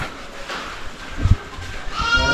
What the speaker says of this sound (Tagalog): Yung kambing, ayun, kinakakatayin na nila doon